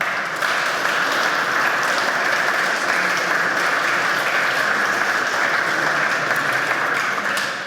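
Sustained, even applause from the attendees of a formal municipal council ceremony, steady dense clapping from a seated audience lasting several seconds without speech.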